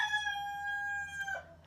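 A chicken calls near a car bumper fiberglass repair: one drawn-out, steady, high call that trails off and drops at the end, moderately faint, with no talking.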